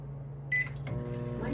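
A microwave oven started by an Alexa voice command to pop a bag of popcorn gives a short beep, then a click and its low running hum starts.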